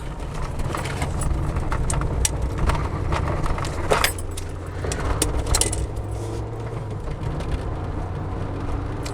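A Peugeot 205 driving on a road at an easy pace, its engine a steady low hum inside the cabin with light rattles and clicks sounding over it, fairly loud and continuous.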